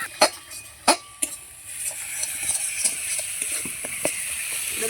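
Ground spices with Kashmiri red chili powder fry in hot oil in a pan: a steady close sizzle with a few sharp utensil clinks and scrapes early on, no talking.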